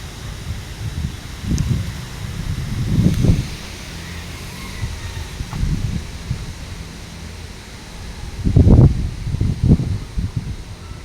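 Wind gusts from Typhoon Uwan rumble and buffet in uneven bursts over a low outdoor hiss in the mountains, rising and falling several times.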